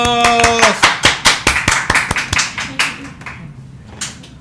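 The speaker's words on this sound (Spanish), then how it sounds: "Fiesta y aplausos, ¿no?" Studio guests on a Spanish-language radio theatre programme break into brisk clapping after a held musical note, a rapid run of sharp, close hand claps that thins out toward the end.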